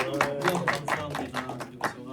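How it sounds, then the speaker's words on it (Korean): A high-school church youth group claps to welcome a youth-group speaker, a short burst of fairly close, slightly uneven hand claps over a couple of seconds, mixed with a voice talking over them. "박수로 우선 환영해 주시고"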